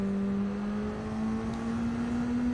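A BAC Mono engine in Gran Turismo 7 holds a steady high drone with a slowly rising pitch, loud and continuous with no talk.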